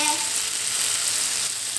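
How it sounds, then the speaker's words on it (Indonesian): Tempe orek frying and being stirred in a pan, a steady close sizzle with a constant crackling hiss and no talk. "Aduk aduk sampai merata."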